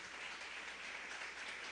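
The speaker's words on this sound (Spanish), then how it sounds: "Dele palmas al Rey de Reyes." Congregation applauding in church after a sermon line, a soft, steady patter of many hands clapping together, faint and somewhat distant, with no speech over it.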